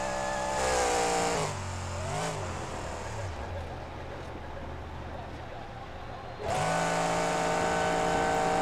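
A monster truck engine in the BeamNG driving game revs loudly with rising and falling harmonic pitch, dropping to a lower drone and then surging back hard near the end, with someone talking over it.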